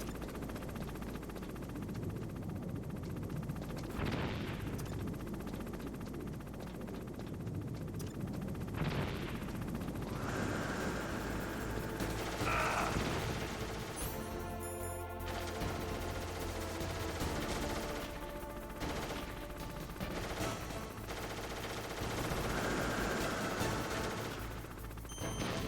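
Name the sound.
grenade explosions in Metal Gear Solid video game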